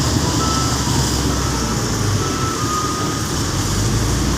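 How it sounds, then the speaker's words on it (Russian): Reversing beeps from a loader loading trucks outdoors, repeating over loud continuous engine and machinery rumble, with no talk. "Сейчас вот теперь машины другой погрузчик грузит."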